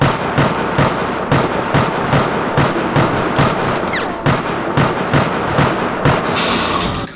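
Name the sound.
pistol gunfire in Resident Evil video game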